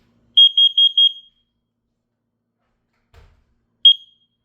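A carbon monoxide and smoke alarm under test at a beach house gives four quick, piercing high beeps, then silence, a soft thud and one more beep, loud and close.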